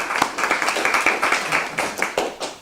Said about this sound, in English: Except more applause.